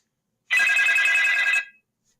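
A telephone bell rings once for an incoming caller on a podcast: a loud, bright ring lasting about a second, standing alone with silence before and after.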